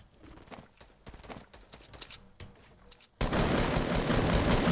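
Gunfire in the Fortnite Battle Royale video game: a spell of scattered shots under game noise, then a sudden loud, dense burst of rapid firing that fills the final second and a half.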